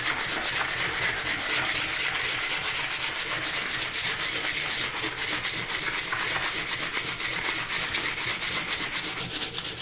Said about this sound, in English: then you actually sand the wood and the metal together